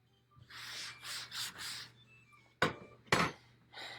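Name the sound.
wiping shaving cream off a spoon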